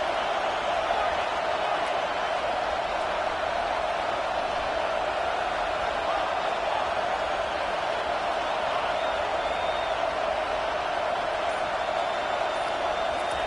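Stadium crowd noise from a Madden football video game holds as a steady, dense roar throughout, loud and unbroken, with no distinct cheers rising out of it.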